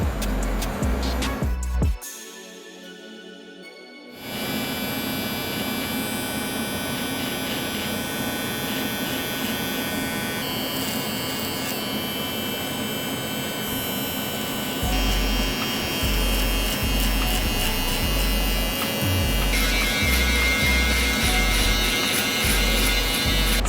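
Electric hair clippers fitted with a number 1 guard, lever open, buzz steadily as they cut and fade short hair in a barbershop. A brief quiet gap comes early, then the motor hum runs continuously close to the listener.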